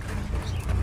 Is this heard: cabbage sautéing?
no